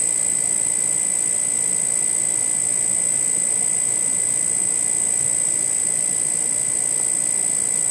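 A high-voltage electrostatic magnetic levitation motor spins at about 3500 RPM, giving a steady, loud whirring hum with a high constant whine that holds unchanged throughout.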